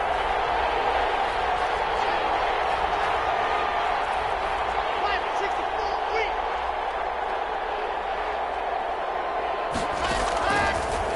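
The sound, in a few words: crowd cheering in a video game football stadium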